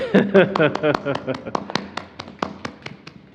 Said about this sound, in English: You cannot hear the virtual applause, so I'm going to make it real.